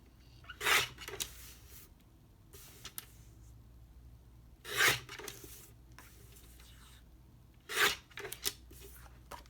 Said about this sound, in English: I'm going to use my Tonic Studios mini guillotine and I'm going to cut out the main topper on the design